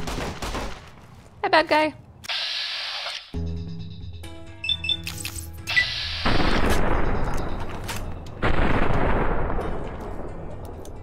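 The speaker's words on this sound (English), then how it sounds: "people shooting at me" Gunfire in Fallout New Vegas, with scattered shots and loud bursts punctuating a mix of game effects, a short spoken line, and a couple of heavy, sustained blasts toward the end.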